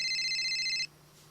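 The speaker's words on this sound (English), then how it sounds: "Hold on, my phone's ringing." An electronic phone ringtone trills steadily at close range in a quick repeating pattern, then cuts off abruptly partway through, leaving quiet room tone.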